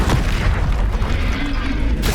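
A Confringo fire spell explodes in the Hogwarts Legacy video game, a loud booming blast with dense low rumble running through the whole moment.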